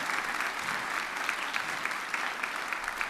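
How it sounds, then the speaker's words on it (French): A theater audience at a show applauds steadily, a full, continuous patter of many hands clapping at an even, fairly close level throughout. "on peut les applaudir"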